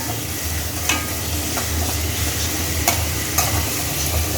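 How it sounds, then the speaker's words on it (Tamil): Onions fry in oil for an emperor fish gravy, a constant close sizzle with a few sharp clicks of a spoon stirring the pan, no talking. "இப்போ நல்லா அந்த வெங்காயம் பொரியட்டும்"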